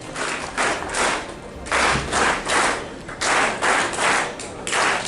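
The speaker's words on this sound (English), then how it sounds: "Let's clap for them." Audience at a university open day clapping for visiting teachers and principals, a crowd of hands beating in loud rhythmic bursts that swell and fade repeatedly, close and without talk.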